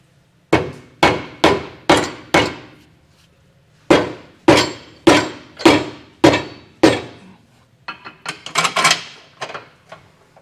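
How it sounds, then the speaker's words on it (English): Dead blow hammer striking a Curt trailer hitch receiver on a 2015 vehicle to knock it into alignment, two rapid series of loud, evenly spaced blows, then a quicker, scrappier cluster of hits. "you can get a dead blow hammer, kind of hit this up until it's aligned"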